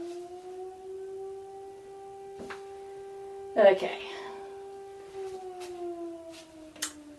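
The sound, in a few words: firehouse siren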